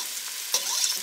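Onions browning over high heat in a pan give a steady, close sizzle with soft stirring scrapes and a brief louder burst of frying midway.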